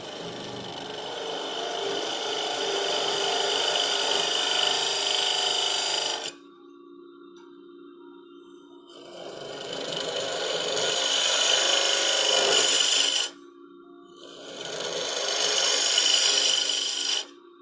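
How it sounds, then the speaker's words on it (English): A scraping cut on green wood while turning a box on a lathe makes a steady broadband rasping that runs in three long passes, separated by short near-silent pauses with a faint hum. "And we're going to come into the center and just leverage this thing a little bit. And we're going to take a scraping cut."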